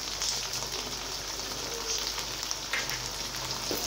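Okra (bhindi) sizzling steadily in a pan with salt added, a continuous crackling fry with faint pops throughout, no voices.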